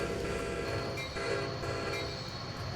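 Metra commuter train in Train Simulator 2020 rolling into Westmont station on track 1, a steady, loud rumble of wheels and engine with a horn-like tonal hum running throughout.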